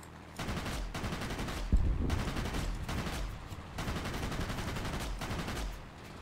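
Bursts of rapid automatic aircraft cannon fire in the game World of Warplanes, several sustained volleys separated by short pauses, loud and close with a dense rattling texture.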